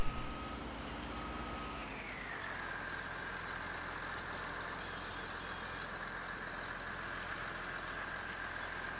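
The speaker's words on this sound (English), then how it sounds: "Beep, beep, beep, here we come." A truck in Farming Simulator 19 sounds a steady high reversing beep over its idling engine rumble, starting around two seconds in and continuing unbroken to the end, with no talk.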